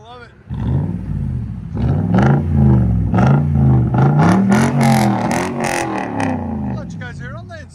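Close, loud revving from a Toyota Tundra 5.7L V8 with an aftermarket exhaust: a brief idle, then repeated rising and falling throttle surges with a deep, roaring tone.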